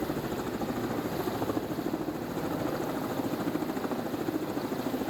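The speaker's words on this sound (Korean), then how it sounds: "매우 좁아 보이는 공간에서 헬리콥터가 머물고 있었는데 곧바로 구조대원이 밧줄을 타고 내려옵니다" A rescue helicopter hovers over a tight spot on the Gongryong ridge in the mountains, its rotor chopping in a steady, continuous, loud throb without a break.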